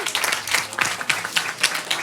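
An audience on a quiz night show applauds, a fairly quiet, steady patter of many hands clapping for about two seconds with no talk over it.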